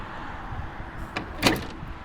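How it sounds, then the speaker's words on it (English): The bed of a 2022 Rivian R1T electric pickup truck opening, with a soft mechanical shift followed by a sharp latch clack and a brief rattle, close by and quiet. "this bed opens and extends the bed space"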